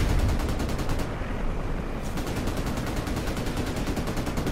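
Call of Duty Modern Warfare gunfire: a steady, fast rhythmic stream of automatic shots, loud and close, continuing without pause for several seconds.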